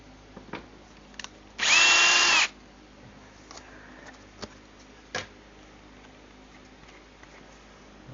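A power drill whirs in one short burst of under a second, amid quiet ticks and small taps, while building a 1/14-scale stationary trommel screener model.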